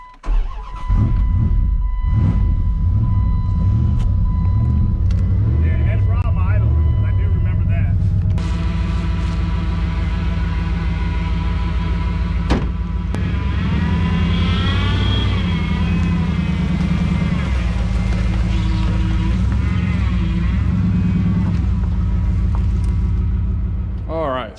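Dodge Ram truck, unmoved for two years and just fitted with a new battery, cranking and then idling loudly with a steady rumble, close by, with people talking over it.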